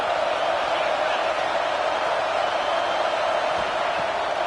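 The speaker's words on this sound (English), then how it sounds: "This crowd knows when to bring it." A dense stadium crowd roars steadily at a UCLA college football game as the offense nears the red zone, a continuous loud wash of cheering with no breaks.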